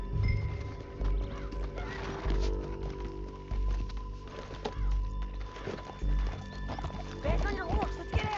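Horse hooves clip-clop at a steady riding gait in Red Dead Redemption 2, with a brief whinny, under game dialogue and background sound.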